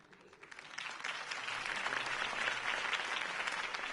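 A crowd at a campaign speech breaks into applause that swells from scattered claps into a dense, sustained ovation.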